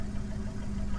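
Low, steady rumble of a 1988 Plymouth Gran Fury's carbureted 318 V8 idling, a close, even throb with a rhythmic low pulse and no talk over it.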